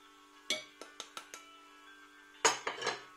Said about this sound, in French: Je mélange tout bien.